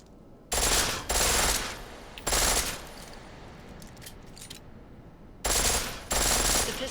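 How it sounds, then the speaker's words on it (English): Full-auto pistol fire in Deus Ex: Mankind Divided, loud close bursts in four blocks with quieter ambient game sound between them. "The pistol in full auto will take down targets fast, but it'll burn through your ammo."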